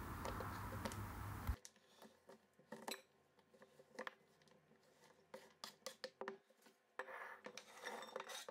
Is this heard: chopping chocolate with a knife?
yes